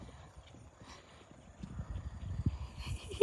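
A huge half Friesian, half Percheron gelding long-trots, its hooves beating a soft, quick rhythmic clip-clop at a moderate distance, growing a little louder toward the end.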